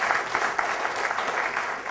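A brief round of applause for the organizers of a Lean India Summit Kaizen Camp, a steady, even crowd patter of many hands clapping at moderate loudness.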